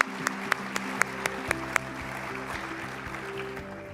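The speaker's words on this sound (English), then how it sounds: "Let's give these young ladies another round of applause." An audience at a Hall of Fame induction ceremony applauds the young ladies who escorted the inductees, a soft, steady spread of clapping in a large room, with a few sharp louder claps near the start before it fades.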